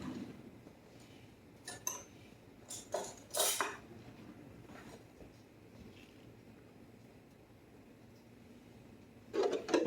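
A spoon clinks and taps against a dish while sour cream goes into creamed potatoes, a cluster of quiet clatters early on, a pause, then another clink at the end, faint and close in a still kitchen.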